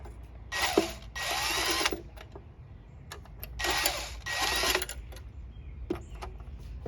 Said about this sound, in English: I usually don't use a impact drill or gun, but this is what I got right now.